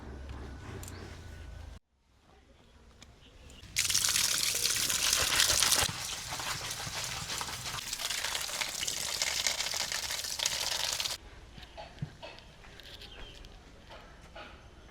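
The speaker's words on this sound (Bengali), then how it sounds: "মাছ কেটে ধুয়ে পরিষ্কার করে নিয়েছি" Cut river tengra fish are washed in water in a village kitchen, with a rushing gush of running water for several seconds among splashing and trickling, fairly near and moderately loud, with no speech.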